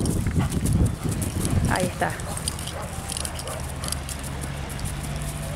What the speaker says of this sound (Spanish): Zapatea un poquito en el lugar